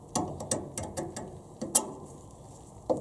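Quick ratcheting clicks come from a hand tool unscrewing retaining cap nuts on a Honda B18C4 engine, in short bursts of close, fairly faint mechanical ticks.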